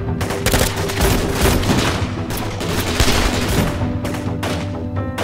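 Sustained gunfire in a battle scene from a drama, with dense overlapping bursts and rapid shots, machine-gun-like rattles mixed with louder booms, continuous and loud throughout.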